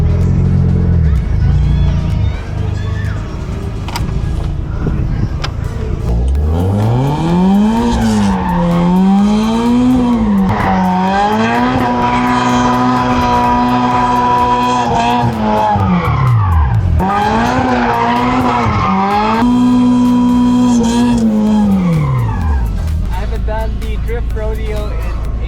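Mazda RX-7 with a 26B rotary engine doing donuts at a Mazda Day event, tires squealing in long sustained bursts as the engine revs and wails, loud and close with brief pauses between spins.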